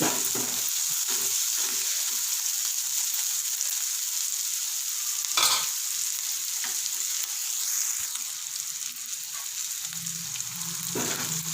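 Soya chunks (meal maker) fry in a pan with a steady, loud hissing sizzle throughout, broken by occasional stirring scrapes, close by and without talk.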